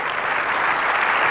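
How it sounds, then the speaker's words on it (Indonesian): A church congregation claps during a sermon, a dense, even wash of applause that holds steady before a voice cuts in briefly at the very end. "Tepuk tangan buat Allah kita."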